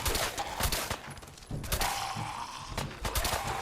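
Combat shotgun fire in Fallout 4, a string of fairly quiet, rapid blasts spaced through a short firefight, with mechanical clatter between shots.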